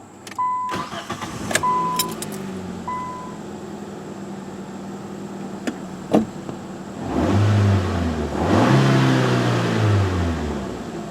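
A warm 2006 Nissan with a faulty fuel pump and a newly changed cam position sensor chimes, cranks and fires up on restart, idles steadily, then revs up loudly in rising surges.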